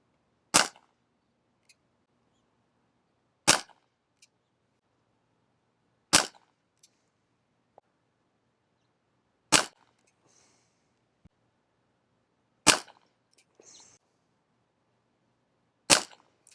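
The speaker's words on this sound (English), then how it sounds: "you need to make sure that you let the CO2 recover in between each shot" A Dan Wesson 715 CO2 BB revolver fires six sharp, loud single shots spaced about three seconds apart, each followed by a short faint clatter, with quiet between.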